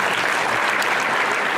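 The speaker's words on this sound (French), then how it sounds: "j'aimerais qu'on applaudisse très, très fort M. Patrick Massé," Audience applauding the mayor of Saint-Laurentide at an evening gathering in Saint-Lin-Laurentides: a dense, steady wash of many hands clapping, loud and close, without a break.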